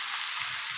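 Spinach and brinjal curry fries in a pan, giving a soft, steady sizzle that runs evenly through the brief moment with no voices.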